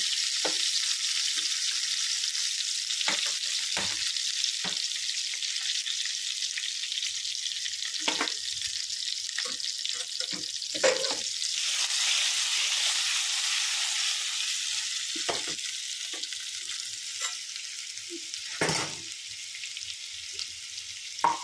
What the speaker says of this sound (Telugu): ఓకే తరింపు వేస్తున్నాను